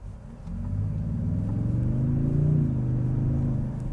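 Toyota Sequoia TRD Pro with TRD exhaust pulls away under light throttle, a low growl rising and swelling smoothly from inside the cabin, moderately loud with no talk.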